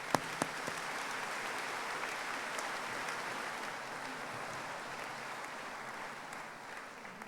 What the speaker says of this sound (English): Can we give them a quick round of applause?